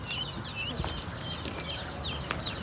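Chickens and chicks on a Turkish village farm cluck and cheep softly, with scattered chirps and peeps from nearby birds over a low ambient background.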